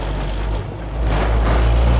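Old carbureted engine of a Citroen C25 camper idling, a steady low rumble with wind noise that grows slightly louder partway through, no voices.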